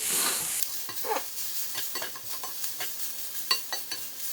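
Sweet potato hash tossed in a frying pan makes a soft sizzle under a series of scraping, shuffling stirs, with an irregular rhythm of light knocks and scrapes.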